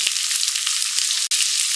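Cabbage, carrot and capsicum sizzle in a hot pan for chicken fried rice, a steady close frying hiss broken by a few light stirring taps and one brief dropout, with no talking.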